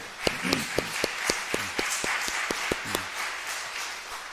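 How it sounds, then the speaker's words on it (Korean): Applause from a Korean Methodist church congregation during Sunday worship, a scattered crowd clapping with a few sharp, distinct claps standing out above the dense patter, fairly close and steady throughout. "박수 하시겠습니다."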